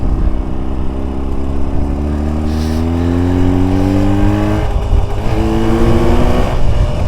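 A Jawa 350 motorcycle with a sidecar carries a passenger, its engine loud and close as it revs upward in long rising pulls, dropping back at a gear change before climbing again.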